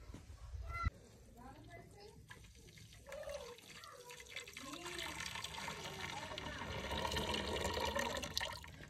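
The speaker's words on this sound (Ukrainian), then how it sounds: "Розвожу, даю дозу 25 мл на 5 літрів води." Water splashes and pours into a container to dilute disinfectant, a faint, steady liquid stream growing fuller over several seconds, with someone speaking over it.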